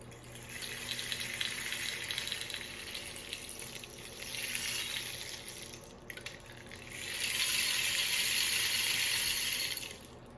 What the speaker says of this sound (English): So now we're going to hear our rain stick.